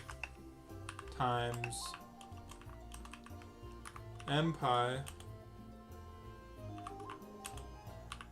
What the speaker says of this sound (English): I know my typing is terrible